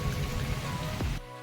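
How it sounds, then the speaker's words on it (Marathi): Heavy rain pours steadily over a farm field, a dense even roar of water on surfaces that cuts off abruptly near the end. "तर पाऊस बघा किती आला"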